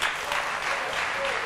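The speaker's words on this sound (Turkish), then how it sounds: "Alkışlar Emel Türkmen'e." A Turkish television talk show's studio audience claps as a guest is welcomed. It is a short, loud, even wash of many hands clapping together at a constant level, with no voices heard.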